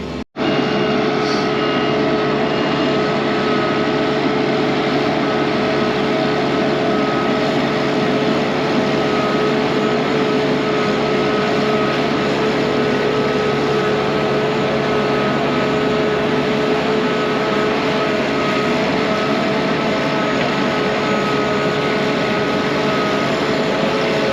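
A feed mixer runs on a South Dakota ranch, giving a loud, steady mechanical drone with a constant engine hum that continues unbroken for the whole stretch, with no voices over it.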